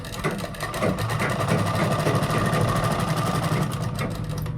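Close and loud, a sewing machine hums continuously, its rapid needle rhythm running without a break while stitching two pieces of a long A-line kurta together.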